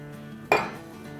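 A single metallic clank as a metal pot holding kneaded dough for namkeen puri is set down, a bright near knock with a short ringing decay in a quiet kitchen.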